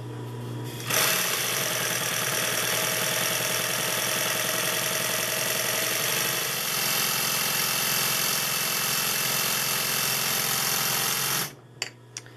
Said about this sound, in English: Taking some thread in there, push the bobbin winder on.